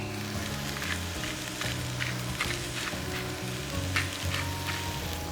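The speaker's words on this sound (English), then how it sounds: "Give it a quick stir. Just get the oil all over the carrots and the sweet potatoes." Carrots and sweet potatoes are stirred in oil, making a soft, continuous sizzle broken by repeated scraping strokes against the pan, with a faint low hum underneath and no speech.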